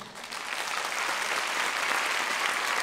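Applause from a concert audience at a folk ensemble's anniversary show, a steady dense wash of many hands clapping that swells slightly after the start and holds evenly throughout.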